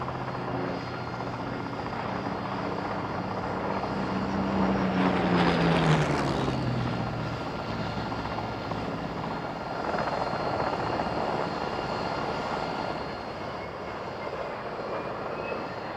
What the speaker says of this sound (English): First, a Spitfire and a Yak-11.